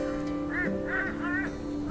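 Birds quack and honk in the video game Shardlight, three warbling calls close together over a steady hum of game music and ambience.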